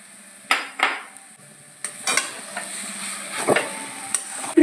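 A spoon stirs a pea mixture with ginger paste frying in a pan, several sharp scrapes and clinks against the metal at an uneven pace over a soft sizzle, close and without talk.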